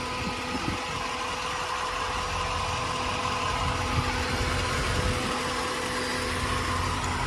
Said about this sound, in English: when you got stock exhaust on these things, you notice those air pumps